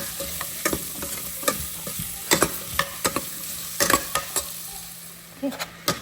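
Capsicum and green chillies sauté in a hot pan with a steady sizzle, punctuated by repeated spatula stirring and scraping clicks throughout, close and alone with no talk.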